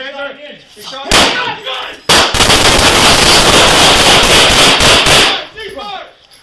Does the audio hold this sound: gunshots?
yes